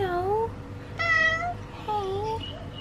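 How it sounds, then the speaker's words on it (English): A cat at island villas on Gili Trawangan meows three times in quick succession, clear and close over a low murmur of background noise. "This cat's at the villas and it's called Moggy."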